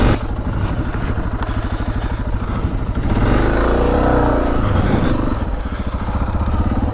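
Suzuki DR650 motorcycle engine revving hard during seated wheelies on a messy trail, a loud close thumping single-cylinder roar that climbs in pitch midway, then settles back into a steady pulsing drone.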